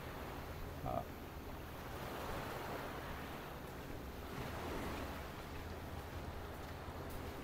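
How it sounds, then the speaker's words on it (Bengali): Waves rolling onto Monkey Beach on Phi Phi Island, with a broad, soft surf wash that swells and recedes, some wind buffeting, and faint background murmur. "তো খুবই সুন্দর একটা বিচ।"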